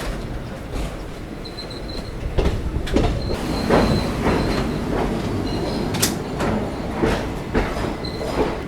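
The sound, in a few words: Chennai Egmore-Mumbai CSMT superfast express train running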